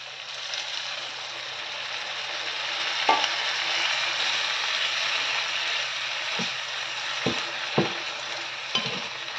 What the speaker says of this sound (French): Et je remue. J'arrose avec un tout petit peu d'eau.